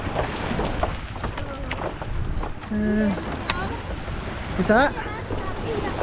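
Small sea waves wash steadily beneath a bagan fishing platform at Tanjung Pasir, Tangerang, Banten, with wind noise over the microphone and people talking nearby throughout.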